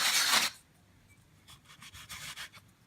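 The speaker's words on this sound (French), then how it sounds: "avec un emporte-pièce, je découpe des ronds comme d'habitude" Metal cookie cutter pressing and scraping through rolled yeast doughnut dough, a loud rasping cut up front, then quieter, repeated scuffing rubs close by, with no talking.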